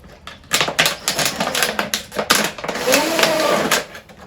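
A cordless drill bores a hole in a homemade fly and mosquito trap, giving close, loud, stuttering bursts of grinding and rattling with a brief whine partway through.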